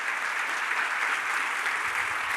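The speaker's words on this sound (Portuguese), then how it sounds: "Pode aplaudir ele." A church congregation applauds with steady, dense clapping throughout, fairly close and with no talk over it.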